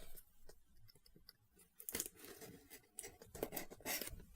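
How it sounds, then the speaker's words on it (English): A knife slices through the tape seal on a Kwad Box subscription box, giving close, scratchy bursts of cutting and tearing with irregular rasps and crunchy scrapes, no talking. "Going to cut our seal here."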